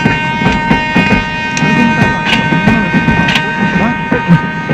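A moving train rolls along with a continuous low rumble and rhythmic clattering thumps, and steady high whining tones run over it throughout in an action film scene.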